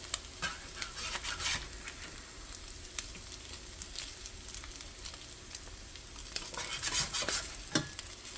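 Salmon patties crisping in a Wapak cast-iron skillet give off a steady close sizzle, broken by sharp spatula clicks and scrapes, with no one talking.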